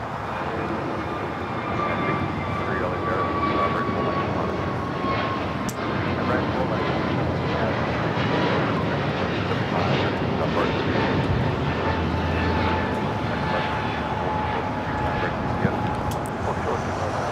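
A jet airliner takes off from runway 25 Right at LAX on a flight to Phoenix, its engines a steady, broad roar throughout with a faint high whine.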